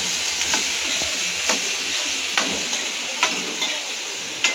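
Vegetables with salt and turmeric being sautéed in a pan, a steady sizzle and hiss with periodic scraping stirs at a regular rhythm, no talking.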